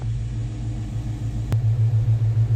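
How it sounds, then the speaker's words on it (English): A Square Body Chevy truck idles with a low, steady rumble after a radiator replacement. A sharp click marks the radiator cooling fans switching on, followed by a louder, pulsing whoosh. "we're going to sit here and let her idle until the fans kick on"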